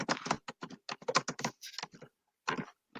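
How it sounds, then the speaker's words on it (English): Frantic typing on a computer keyboard, heard up close as rapid, uneven bursts of clicking keystrokes with short pauses between flurries. "I not love how frantic the typing I hear as you're talking is"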